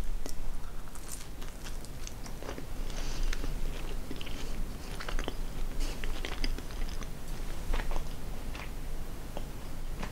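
Crispy-crusted Dr. Oetker chocolate pizza being bitten and chewed close up, with a steady run of crunchy bites and mastication for about ten seconds and no talking.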